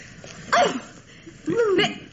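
A dog makes two short vocal sounds about a second apart, yelping or whimpering rather than full barks, over a quiet indoor background with a faint voice nearby.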